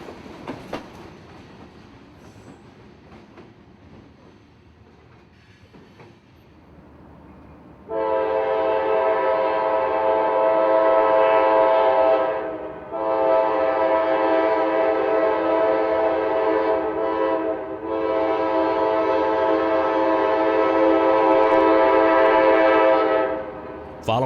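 A freight juice train passing at Winter Park sounds its horn in three long, loud blasts with brief gaps, over a low rumble of rolling cars.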